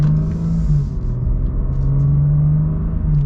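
Steady low engine rumble of a 2022 BMW M3 Competition pulling away from a standstill, a continuous droning note heard from inside the cabin with no talking.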